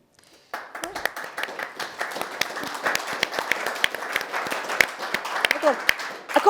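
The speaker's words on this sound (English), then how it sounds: "I got a round of applause for talking about SI." An audience at a panel discussion on delegated legislation breaks into applause after a short silence, scattered claps building to steady clapping that grows louder toward the end.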